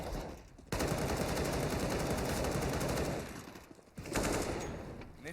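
Bursts of rapid automatic gunfire in Counter-Strike during an ESL Pro League match, loud and close: one long sustained volley, then a brief pause before a second shorter burst.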